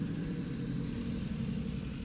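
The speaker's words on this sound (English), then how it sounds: "sounds like a dump truck." A heavy dump truck rumbles by, a steady, loud low-frequency drone that holds without a break for the full two seconds, with no voices over it.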